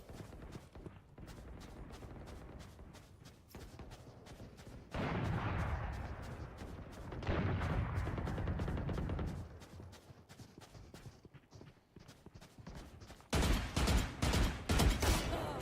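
Sharp gunshots from the video game Valorant crack in rapid bursts and single shots, with denser loud volleys near the middle and end, over quieter game ambience.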